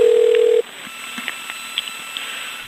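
On a phone call to a mortgage lender, a telephone gives a loud, steady tone that stops abruptly after about half a second, followed by faint line noise and scattered small clicks.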